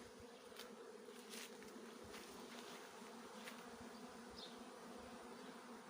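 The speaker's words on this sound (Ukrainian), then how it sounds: "Пасіка ще гудить, ще хтось облітується." Honeybees at an apiary during a sunflower honey harvest, a continuous low droning buzz from many insects, with a few individual bees flying close past now and then.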